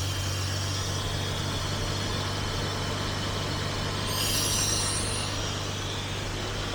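A 1966 Jaguar S-Type engine idles on choke from a cold start, running slightly rich, with a steady, even drone and low rumble throughout and no talking.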